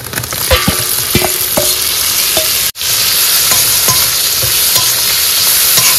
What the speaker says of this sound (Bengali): এবার কিন্তু চিংড়ি মাছ দিয়ে দেবো